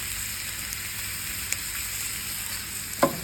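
New York strip steaks searing in a very hot pan, a dense, even sizzle held close and steady, broken by a couple of brief sharp crackles, no voices.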